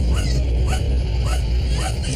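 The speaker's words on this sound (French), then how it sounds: "Les chiens étaient agités, et ils couraient dans tous les sens en aboyant, en grognant." Several agitated dogs bark, yip and whine in a steady, restless chorus, with the sounds coming and going over continuous low rumbling background noise.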